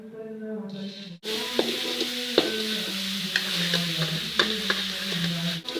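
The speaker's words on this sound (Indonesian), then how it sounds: "Kita memakai sedikit minyak saja ya. Kita masukkan bumbunya yang kita ulek barusan." Ground chili spice paste for sambal terasi drops into a little hot oil and sizzles, then frying continues steadily with repeated scraping stir strokes of a spatula in the pan. Close and clear, with no talk over it.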